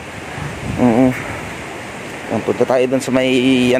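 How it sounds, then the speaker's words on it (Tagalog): Strong typhoon wind blows as a steady rushing, howling noise that fills the whole stretch, while someone talks close by over it. "uni ng hangin. Talagang umiiyak."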